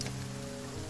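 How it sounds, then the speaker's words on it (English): Steady, soft rain falls in the fantasy game The Banner Saga 2, a faint continuous patter with no voices. "The darkening sky lets loose its rain"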